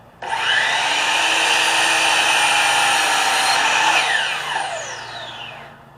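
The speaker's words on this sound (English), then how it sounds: "with a 12-inch slide, I can cut both of them at the same time" A 12-inch sliding saw cuts through two stacked boards of latticework at once, a loud, steady whining roar that starts abruptly, holds for several seconds, then winds down as the blade slows.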